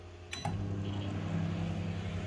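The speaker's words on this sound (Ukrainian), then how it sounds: "Кладу в мікрохвильовку, запускаю." A click and short beep, then a steady low electrical hum of a microwave oven starts up and runs on evenly.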